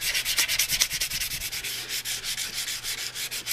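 Sanding along the edges of a cast rear wheel from an FZR motorcycle, a steady rhythmic rasping rub with repeated back-and-forth strokes, close and fairly loud with no talking.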